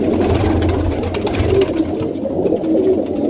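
Pigeons coo in a steady, close chorus of soft, throaty low calls, with more birds rustling and calling around them and no talking.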